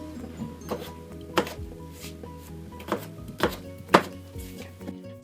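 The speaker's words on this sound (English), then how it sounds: "always using a cutting board and a sharp knife. cut it in half again, and then cut into pieces." A sharp knife chopping vegetables on a cutting board, a series of close, irregular knocks and thunks with short pauses between cuts, with no voice over them.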